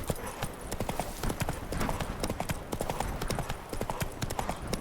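Rapid clip-clop of the horse Roach's hooves in The Witcher 3, a steady galloping rhythm heard close and continuous, with faint game sounds behind.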